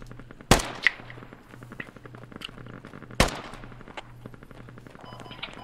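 Video game gunfire: two loud sharp close shots a few seconds apart, each followed by smaller echoing cracks, over a low steady hum, with no voices.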